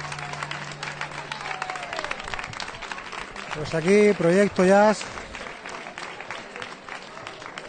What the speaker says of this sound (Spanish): Ya digo que el aplauso es para vosotros.